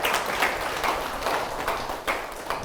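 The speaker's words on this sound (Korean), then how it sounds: "큰 박수 좀 부탁 올리겠습니다." A lecture-hall audience claps to welcome a district mayor at a local autonomy lecture, a steady wash of applause heard alone.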